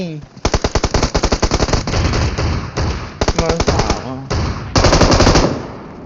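Automatic gunfire from a distant enemy in PUBG Mobile, loud rattling bursts of rapid shots in several runs with short gaps, with voices talking over it.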